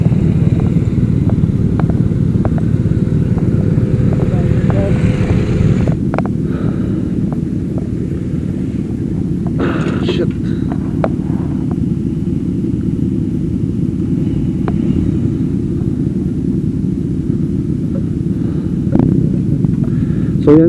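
Motorcycles cruise along a road in Clark and Angeles, Pampanga, with a steady loud engine drone and wind rumble throughout, and occasional faint clicks and passing noises over the continuous roar.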